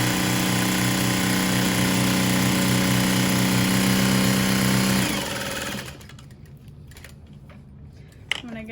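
A sewing machine runs steadily for about five seconds, a close, even mechanical whir stitching a fabric bag, then stops, leaving quiet room sound and a sharp click near the end.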